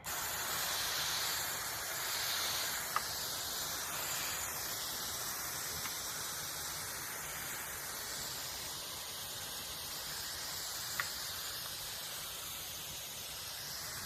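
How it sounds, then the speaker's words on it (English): A spray mister releases a soft, steady hiss of fine mist over pelleted Campanula and snapdragon seeds, faint and continuous with a couple of tiny clicks and no speech. "this mist can go, but it definitely can hold a stronger stream if you need to"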